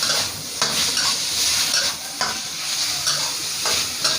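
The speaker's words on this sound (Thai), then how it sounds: "อันนี้เราผัดหมูให้สุกนะคะ ผัดหมูให้สุก" Pork stir-fries in a hot pan for a Thai pad see ew, sizzling steadily as a utensil scrapes and stirs in regular strokes, loud and close with no talk.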